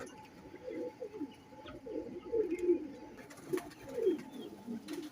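Sialkoti pigeons give soft, rounded coos in short repeated bursts, close by and fairly quiet, with brief pauses between phrases and faint background noise.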